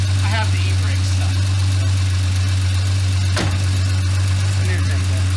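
A Jeep Cherokee, revived after sitting for over a decade, idles close by with a steady, deep rumbling hum and slight knocking. Voices can be heard faintly over it.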